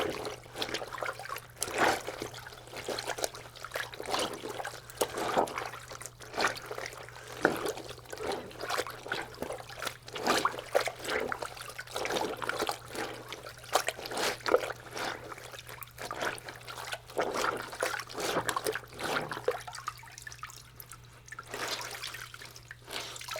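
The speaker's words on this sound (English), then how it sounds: "Wringing out the clothes now for this pair of shorts." Washed shorts wrung out by hand: repeated close trickles and drips of water falling in uneven bursts, quiet and steady over a faint background hum, with no talking.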